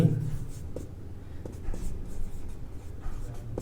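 A pen scratches steadily on paper as math working is written out, a soft continuous scribble with small tapping strokes close up over a low room hum.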